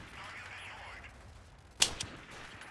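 A single sharp sniper gunshot cracks once in the Freeman: Guerrilla Warfare game, landing a headshot. It stands out clearly against a low ambient bed, followed by a short fading tail.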